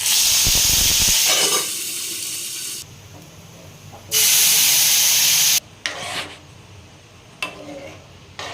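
Green chillies fry in hot oil with cumin and mustard seeds for a tomato dal, a loud steady sizzle and hiss that cuts in and out in bursts, with faint kitchen clatter between.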